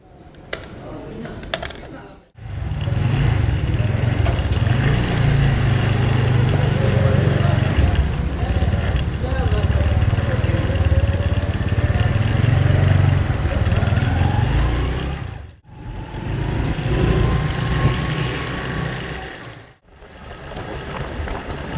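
A motorbike running low on petrol rides along a road, its steady engine drone and wind rush filling almost the whole stretch, broken by a few brief drops in level.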